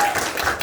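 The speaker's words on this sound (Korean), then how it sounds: "우리 서영 리더님 한번 큰 박수 부탁드릴래요?" Audience applause in a meeting hall during a special team gathering, a brief burst of dense clapping from a crowd that fills the whole moment evenly, with no clear pauses.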